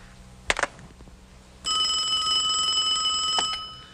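A telephone rings indoors, a loud sustained electronic ring lasting about two seconds, preceded by a couple of short sharp clicks and knocks.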